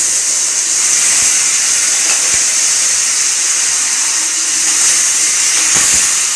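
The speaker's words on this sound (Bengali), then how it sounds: "এবার আমি জল দিয়ে দেব।" Water hits a hot pan of spiced chickpea curry (kabli chhola ghugni), raising a loud, steady steamy hiss and sizzle that fills the whole stretch with little variation.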